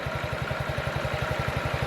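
A 2017 Honda Ruckus scooter engine idles low and steady, with a fast, even pulsing putter close by and no talking.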